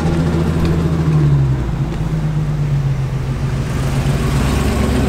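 A Nissan 350Z rolls past on a Japanese road toward Fuji Speedway, its steady engine hum rising and easing as it goes by at moderate distance.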